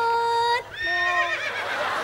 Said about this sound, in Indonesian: kok suaranya kuda, Bu?